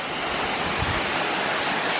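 A waterfall in Saint Lucia pours as a dense, even roar of broadband rushing water, loud and close, with wind buffeting the microphone and no voices.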